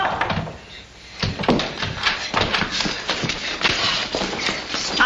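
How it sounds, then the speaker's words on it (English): A door opens in an old black-and-white Western film scene, giving a run of loud knocking, rattling clatter after a short quiet pause, with no voices over it. "Open the door."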